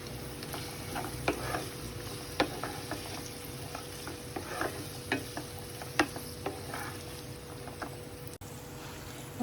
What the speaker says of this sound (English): Now I'm going to add some capsicum. Some chopped carrots.